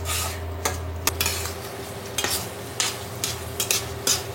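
Chicken fries in a pan as its water cooks off, a steady sizzle punctuated by sharp metallic clinks and scrapes of a utensil stirring against the pan.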